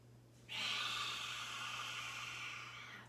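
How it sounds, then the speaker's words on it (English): A single long, forceful exhalation through the nose or mouth during a yoga cleansing breath, a loud breathy rush that starts abruptly and trails off slowly over about two and a half seconds. "that cleansing breath, let everything out, let it loose"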